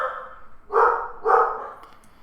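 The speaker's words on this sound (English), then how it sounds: "Dogs." Two sharp, close dog barks from the Magic Arena card game's sound effects, each a short punchy woof with a slight pause between them, loud and clean over a quiet background.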